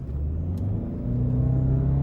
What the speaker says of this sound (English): Do a little 0 to 60 here.